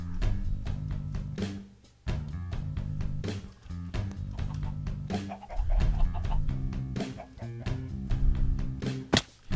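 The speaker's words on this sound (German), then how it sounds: "Die hat's nur Hühner." Chickens in the video game Minecraft give short, repeated clucks that sit up close within a busy mix of game music and other in-game noises.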